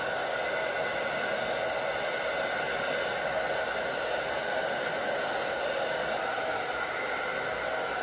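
A blow dryer drying hair while a brush works through it runs as a loud, steady whoosh the whole time, with no talk.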